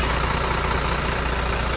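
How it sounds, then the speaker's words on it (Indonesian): A Hino RK8 bus engine idles in its engine bay with a steady, loud, continuous rumble and broadband hiss throughout, with no talk over it. "Dan ini seperti ini rumah mesinnya untuk mesin Hino RK8 ya"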